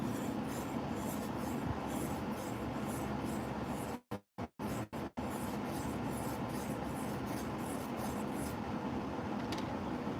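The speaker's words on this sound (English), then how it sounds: "Now we're grinding we're smoothing this out a little bit." Fountain pen nib, a very fine needle point, being ground and smoothed on a small stone; a faint, continuous scratchy rubbing runs throughout, broken by a few brief near-silent gaps midway, with no talking.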